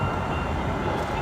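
A train rolls past at close range in an urban transit setting, giving a steady, loud broadband rumble that holds evenly without pause.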